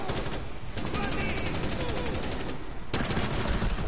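Sustained, loud video-game gunfire rattles almost continuously, with overlapping shots and a fresh burst near the end, while players talk over it.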